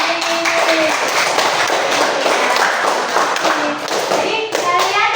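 Students applauding in a classroom for a discussion group, dense steady clapping that runs the full length with voices audible over it.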